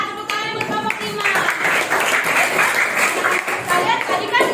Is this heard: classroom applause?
yes